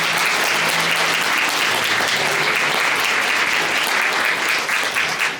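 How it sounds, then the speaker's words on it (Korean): Wedding guests clap in blessing right after a couple is declared married, a dense, loud, steady burst of applause from a full hall lasting several seconds and tapering slightly at the end. "여러분 축복의 박수 부탁드립니다."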